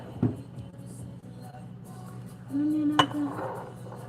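A metal spoon clinks against dishes in a home kitchen while a smoothie is being made, with a couple of faint taps and a brief scraping clink near the end, close by.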